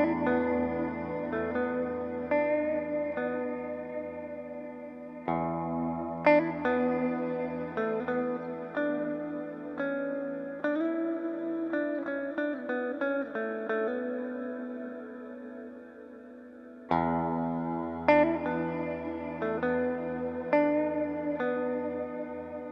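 An electric guitar runs through an Old Blood Noise Endeavors Sunlight dynamic reverb pedal, playing ringing chords and picked notes that bloom into a lush, shimmering wash and decay in long tails.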